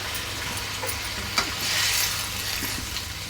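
Water is added to tomato chutney frying in a pan, giving a steady, close sizzle and bubbling hiss with faint stirring clicks and no talking.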